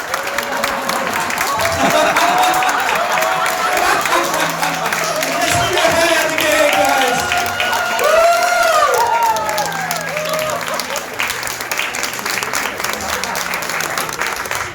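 Guests at a small wedding applaud the bride and groom, a sustained crowd of clapping hands with some cheering and scattered voices talking underneath throughout.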